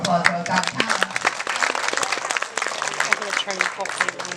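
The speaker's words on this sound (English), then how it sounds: "Big round of applause for that talent." Crowd applause and clapping at a sea lion show, a dense patter of hands running throughout beneath a presenter's voice and cheering.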